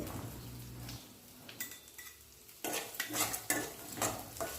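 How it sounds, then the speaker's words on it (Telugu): Carrots being stirred into fried onions and curry leaves in a pan for carrot rice, with soft sizzling and then a run of louder scraping, clinking spoon strokes against the pan, close by, starting quiet and growing busier. "ఇప్పుడు క్యారెట్ వేసుకొని కలుపుకోవాలి"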